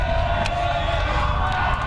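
Home crowd at a Woodbridge varsity high school baseball game against Colonia, a steady murmur of voices and scattered shouts heckling the opposing pitcher, fairly loud and continuous throughout.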